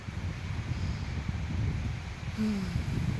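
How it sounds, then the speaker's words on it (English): Steady wind hisses and rustles through willow tree leaves, soft and continuous, with a brief low tonal sound near the end. "and hearing just the wind. Listen to this beautiful willow tree behind me."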